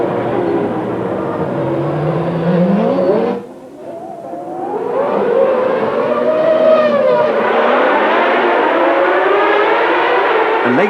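1994 Formula 1 race cars scream past in a loud, continuous wail of high-revving engines, the pitch rising and falling as cars chase each other, with a brief dip before the roar swells again.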